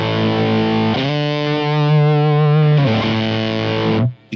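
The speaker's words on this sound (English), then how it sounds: "I'm going to turn this pre-gain up just so you can hear how heavy it could get in that stage." A JHS Colour Box pedal pushes a guitar into heavy distortion with its pre-gain turned up, sustained saturated chords ringing loud and close, one chord changing to another and then cutting off abruptly.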